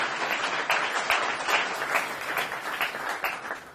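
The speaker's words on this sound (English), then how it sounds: "And I'm okay with the hand clap" A crowd at a Michigan governor's bill signing for the CROWN Act claps steadily, with distinct individual claps audible within a moderate, even round of applause.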